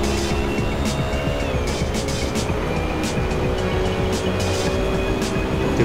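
GT3 race cars lapping the Imola circuit in the Assetto Corsa racing sim. A steady, droning engine whine holds throughout and shifts pitch once, like a gear change, with other cars close by.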